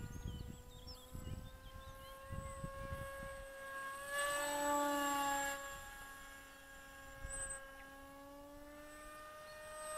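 Electric motor of a cheap RC flying wing running below full throttle outdoors, a steady whine that rises briefly midway, with wind thumps and no talk.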